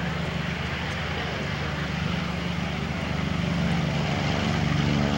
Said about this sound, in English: That is a Goodyear built aircraft.